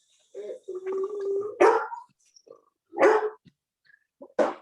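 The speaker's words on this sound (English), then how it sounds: "I hear you have a dog too." A dog barks a few times in the background, short sharp yaps spread across a few seconds with quiet gaps between them.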